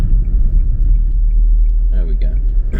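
A car's engine rumbles low and steady while driving along an old street, a continuous close drone with a voice briefly talking over it near the end.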